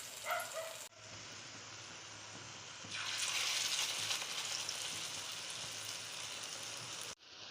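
Taro (mankochu) cutlets being lowered into hot white oil in a pan, with a hiss that swells into louder, crackling frying after a short pause and then holds steady before cutting off.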